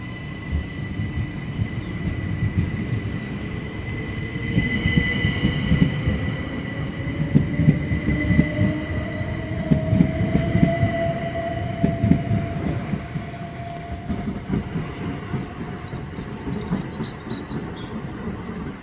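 Southeastern Class 375 Electrostar electric train running in Kent, steady loud rumble of wheels and carriages with a rising motor whine and squeals, heard continuously from on board.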